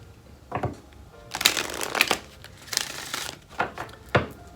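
Soul's Journey Oracle cards being shuffled by hand in short riffling bursts and soft flicks, close and crisp, with pauses in between.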